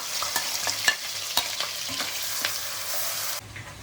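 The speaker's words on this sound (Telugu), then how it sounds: "ఒకవైపు ఉల్లిపాయలు వేగుతున్నాయి కదండి" Onions sizzling in hot oil for gongura chicken, with crackling bursts and a few sharp spoon-stirring clinks, close by and without speech.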